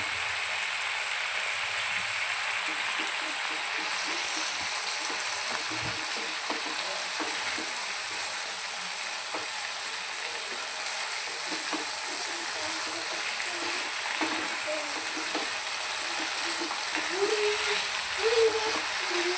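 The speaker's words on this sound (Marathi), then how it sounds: "अशा पद्धतीने आपण आता यामध्ये छान असे फ्राय करून घेऊया" A ginger, garlic and coriander paste fries for a Bombay duck fish curry, giving a steady close sizzle with soft scraping stirs throughout and a slightly louder burst near the end.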